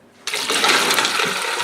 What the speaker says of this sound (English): Put in 1/4 of ice and water, real cold